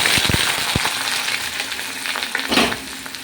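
Chopped onion and tomato dropped into hot oil crackle with a few sharp pops at first, then a steady close sizzle with stirring noises and a brief louder surge near the end.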